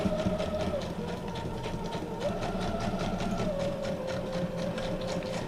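A sewing machine stitches back and forth across junk journal paper scraps, a fast steady mechanical whirr with rapid needle clatter and shifting motor pitch, close and moderately quiet with no talk over it.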